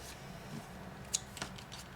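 Quiet snips of scissors cutting through paper, one brief sharp snip standing out, close and faint against a soft background hiss.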